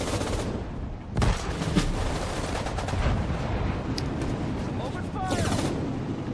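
Battle of Bataan in the Sudden Strike 4 video game: rapid machine-gun and rifle fire crackles continuously, punctuated by heavier booming blasts, with loud sharp bursts near the start and end.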